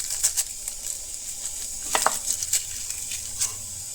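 Dry spices and curry leaves frying in a pan for South Indian tomato rasam, a soft steady sizzle with a few brief scrapes of stirring, fairly quiet and close, no talking.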